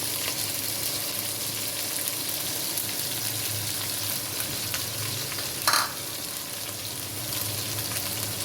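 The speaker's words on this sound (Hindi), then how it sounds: "फिर खड़ा मसाला डालकर 1 मिनट भूनेंगे।" Whole spices frying in oil with ginger-garlic paste for chicken korma, a steady close sizzle with a brief scrape of stirring partway through.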